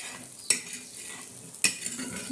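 Thalipeeth fries in a little oil on a pan, a faint steady sizzle broken by two sharp metallic clinks of a utensil, close and quiet with no talking.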